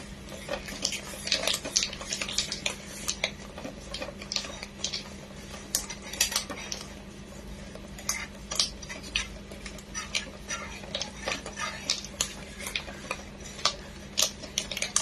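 Cold butter is worked in a bowl for Indian ghewar batter, with rapid, irregular clinks and scrapes of a utensil against the bowl over a low steady hum.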